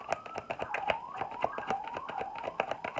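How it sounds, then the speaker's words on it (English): A siren wails in repeated rising sweeps, fairly faint, over a steady rhythmic tapping pulse. "Have the sirens going on."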